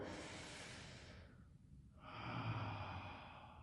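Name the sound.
breathing during a stretching routine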